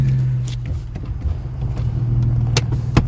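An Acura TL with its exhaust split in half, driving with a low, steady rumbling drone and a couple of sharp knocks near the end, heard from close by.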